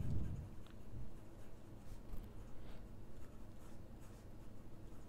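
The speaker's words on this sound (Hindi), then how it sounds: "मैं यहाँ पे लिख देता हूँ फिर से" Faint scratchy writing on a board during a maths lesson on binary operations, a continuous soft scribbling texture with a louder bump at the start, with no talking over it.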